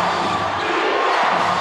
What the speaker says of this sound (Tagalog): Crowd rocking it here inside the venue